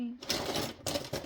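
A sewing machine stitches a card pocket for a Victorian botanical junk journal in a quick, rapid burst of mechanical clatter, broken by a brief pause, close and fairly quiet.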